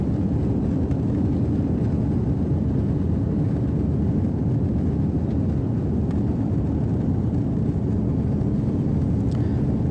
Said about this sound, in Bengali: এইমাত্র বিমানটি উপরে উঠে গেল